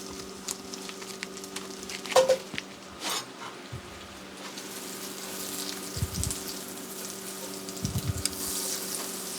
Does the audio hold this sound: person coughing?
no